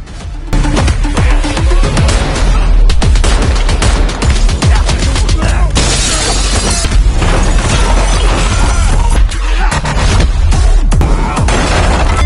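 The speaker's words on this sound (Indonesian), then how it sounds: "Pas lagi seru-serunya terdengar suara tembakan." Loud, rapid bursts of gunfire with sharp cracks and heavy crashes, sustained almost without pause over a dense, dramatic background.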